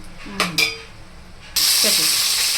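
Cloves drop into hot oil in a pan for a spicy chicken curry, with a couple of light clinks and then a sudden, steady loud sizzle of frying.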